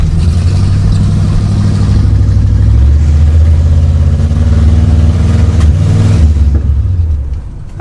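An old Pontiac, barn-stored for decades, roars with an open exhaust while driving, its deep engine rumble loud and close, revving and climbing in pitch before easing off near the end.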